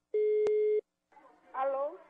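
A single steady telephone dial tone beep with a sharp click partway through, followed after a pause by a voice coming over the phone line for a prank call.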